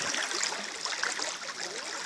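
Floodwater running through a flooded street with cars standing in knee-deep water in Joinville, a continuous rushing, splashing wash of water, steady and fairly close.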